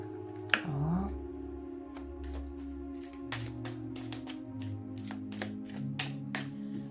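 Tarot cards being shuffled for a reading, a string of quick soft riffles and taps, close and quiet, over a faint background of music.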